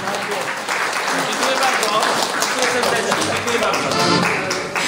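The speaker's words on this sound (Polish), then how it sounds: "Także duże brawa dla pana Mirka, naszego wójta." Guests applauding at a golden wedding anniversary celebration for couples from the Błędów municipality, a hall full of steady, lively clapping that holds at an even level.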